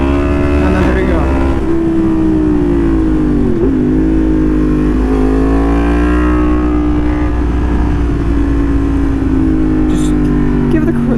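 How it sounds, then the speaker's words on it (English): A Yamaha FZ motorcycle engine is revved hard during a wheelie. It is loud and close, holding high revs with a wavering pitch and brief throttle dips. "Throttle little cracks until you feel it come up, and then let off."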